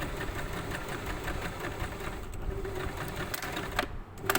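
A sewing machine runs steadily while stitching bias trim along a fabric edge, a close, continuous mechanical whir with a quick stop near the end.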